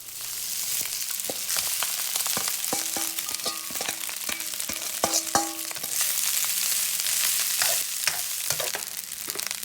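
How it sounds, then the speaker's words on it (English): Rice going into a frying pan for Spam fried rice, a loud, dense sizzle running throughout with repeated scraping and tapping of a utensil against the pan as it is stirred, close and without talk. "Now we're going to add the rice."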